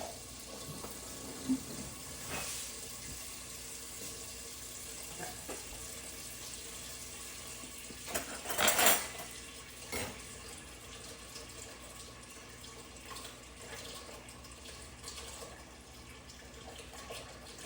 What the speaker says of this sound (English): So, get my pineapple juice drained.